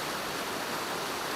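Water gushes steadily through four failed, clog-prone screen panels at the Freeman Diversion dam: a dense, continuous broadband roar with no breaks or voices.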